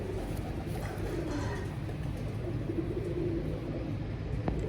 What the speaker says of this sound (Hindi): ये उनके लाल आँखों वाले रेड आइज कबूतर हैं